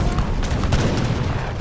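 Gatling guns and grenadiers clash in Age of Empires 3 Definitive Edition, producing a brief, dense burst of loud overlapping gunfire and booms.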